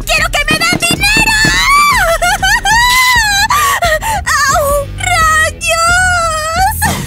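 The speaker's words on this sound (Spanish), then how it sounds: "ya deja de gritar" A child screams and wails loudly in long, rising and falling cries, broken by brief gasps and sobs, close and continuous across the whole stretch.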